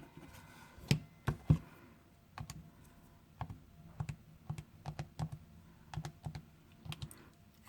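Buttons pressed on a calculator while entering a cosine expression, a series of sharp, distinct clicks spaced irregularly over several seconds, close and fairly loud with quiet gaps between presses and no talking.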